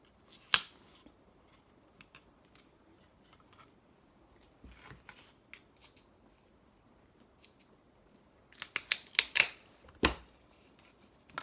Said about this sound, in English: So the next one, obviously, I'm going to have to cut as well,